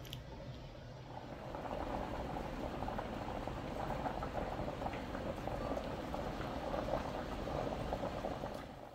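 A pot of potatoes boils at a vigorous rolling bubble, a steady close-up gurgle and pop that continues without pause, quiet overall.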